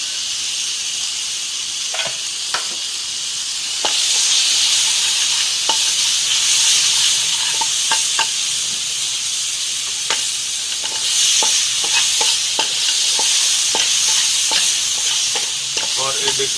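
Green chillies sizzle steadily in a hot pan while being stir-fried, a constant frying hiss punctuated by frequent light scrapes and taps of a spatula, the sizzle swelling louder partway through.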